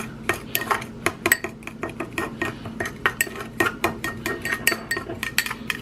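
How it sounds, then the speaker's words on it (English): A spoon stirs a gritty turmeric and brown sugar lip scrub in a small dish, giving steady, rapid clinks and scrapes of metal against the container, close and fairly loud, with no talking. "I'm gonna stir it around."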